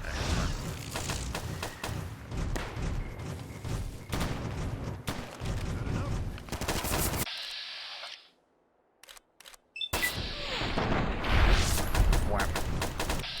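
NCR troopers fire on someone in Fallout: New Vegas, a dense run of loud, rapid gunshots that cuts to near silence for a moment, then returns with more shots and heavy impacts.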